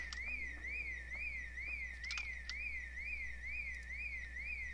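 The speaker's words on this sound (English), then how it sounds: "The school's alarm system is going off." A school alarm system going off in Project Zomboid, a steady electronic siren that sweeps rapidly up and down in a regular warbling cycle over a low constant hum, heard alone and fairly faint.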